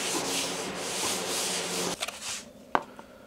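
A sanded epoxy patch on a Royalex canoe being wiped clean, a close, steady rubbing and scrubbing for about two seconds, followed by a few short scuffs and a sharp tap.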